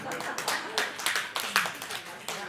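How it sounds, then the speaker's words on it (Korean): A church congregation claps together in a burst of applause during a Sunday sermon, with crisp overlapping hand claps forming a steady patter close by, while voices murmur underneath. "박수 한번 주시기 바랍니다"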